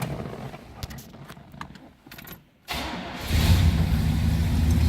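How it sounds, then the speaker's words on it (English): A 1966 Pontiac GTO convertible cranks briefly, then fires and settles into a loud, steady rumbling idle, close by, with no talk over it. "Go ahead and fire this up for you so you get an idea how it sounds."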